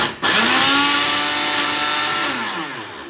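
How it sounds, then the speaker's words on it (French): A blender whirs loudly as it purées avocado, garlic, oil and salt. The motor kicks in abruptly and holds a steady, high buzzing drone with slight pitch shifts, then winds down near the end. No one speaks over it. "nous allons mixer avocat, ail, un peu d'huile, un peu de sel"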